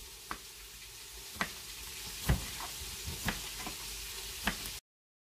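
Onion, potato and fish frying in oil for a Djerba-style fish couscous give a steady, close sizzle, with a few sharp taps and scrapes from a utensil, before the sound cuts off abruptly.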